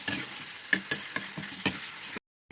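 Pork cooking in a pan is stirred with about six quick, distinct scraping strokes over a faint sizzle, then the sound cuts to silence.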